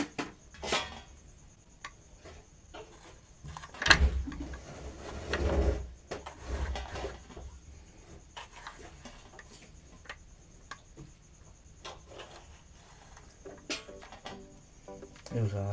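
Kitchen knife chopping a fruit into pieces on a board, sharp scattered taps and thuds with a louder cluster of cuts near the middle, close and fairly quiet, with no talk.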